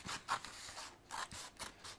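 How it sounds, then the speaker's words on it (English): Scissors cutting around the edge of a paper shape for a school art project, a few short snipping bursts in a quiet room with no talking. "And I'm going to go all the way around and cut that off. Scissors to the side"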